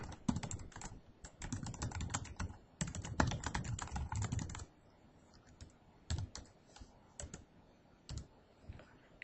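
Close, quiet keyboard typing in rapid clusters of key clicks, busy at first, then thinning to sparse single taps and short bursts, with no voices.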